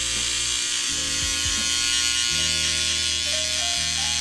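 An electric hair trimmer buzzes steadily while cutting hair down short during a barbershop bald fade, its motor hum shifting in pitch as it moves through the hair, close and continuous with no talking.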